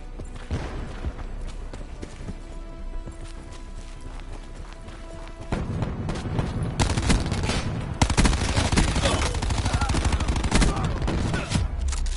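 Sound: gunfire in the video game Call of Duty: Black Ops 4

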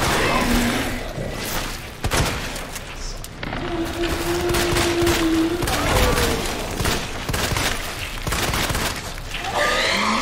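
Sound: gunfire from a gun in the video game Resident Evil 2 Remake

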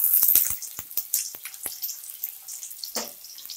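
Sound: chopped onion frying in hot oil

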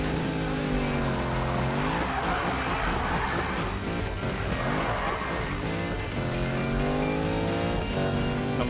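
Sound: car drifting with tire squeal in Need for Speed video game

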